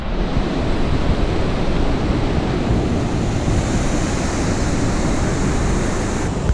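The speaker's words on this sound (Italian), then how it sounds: "Ovviamente nel mare ci sono le onde" Sea waves at an Italian beach roar as a constant, loud wash of surf, with wind buffeting the microphone throughout and no distinct breaks between swells.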